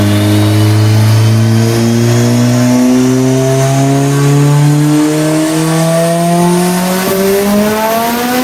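A big-turbo Mitsubishi Evo engine on a dyno pull is held hard and loud at steadily climbing revs for over eight seconds, its harmonics rising smoothly, then sags briefly near the end, with no voices.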